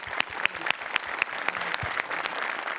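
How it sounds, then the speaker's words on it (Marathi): A studio audience at a Marathi comedy stage show bursts into dense, steady applause, with sharp individual claps standing out and the clapping holding strong for the whole stretch. "जोरदार टाळ्या"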